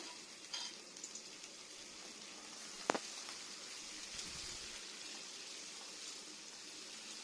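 Onion, garlic, ginger, green chili and curry leaves frying in hot oil give a steady, faint hiss and crackle, with a sharp clatter near the middle as they hit the pan, no talking.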